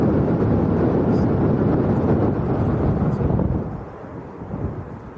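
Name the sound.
wind gusts on microphone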